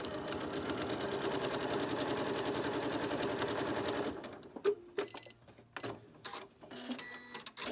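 A sewing machine stitches a line across a homemade fabric medical mask, a fast, even whirring run of needle strokes for about four seconds, then stops, leaving soft clicks and fabric handling.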